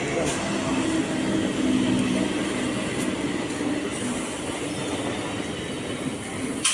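A local train rumbles at Mallikpur railway station, a steady rolling drone with brief clanks and hiss over a busy platform, heard moderately close with low background voices.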